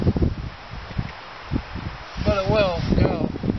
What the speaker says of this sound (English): That's what we need, some good wind.